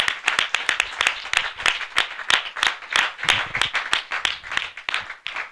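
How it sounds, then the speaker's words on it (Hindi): A church congregation claps together in worship, a fast, fairly even run of sharp hand claps at close-to-moderate distance, steady for several seconds with no voices over it. "ताली बजाकर परमेश्वर की महिमा करें।"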